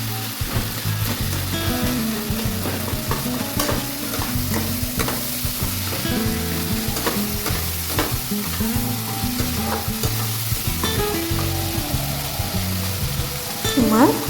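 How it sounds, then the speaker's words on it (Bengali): Tomato and spice mix is mashed and stirred with a spatula in a hot oiled pan, giving a steady close sizzle with repeated scraping strokes throughout. "টমেটোটা আমি খুন্তি দিয়ে ভালো করে ম্যাশ করে নেব।"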